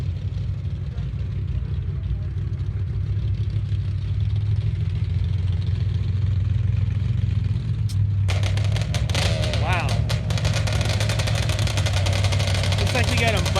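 A drag racing motorcycle idles with a steady low rumble ahead of a test run at a drag strip, then the engine blips and crackles more sharply in the second half, with a public-address voice over it.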